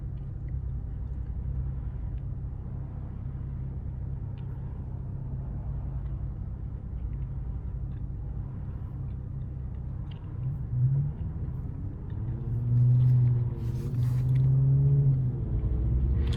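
Steady low rumble of road traffic heard from inside a car, likely a Dodge Challenger V6, with engines idling and passing vehicles building louder toward the end; no talking.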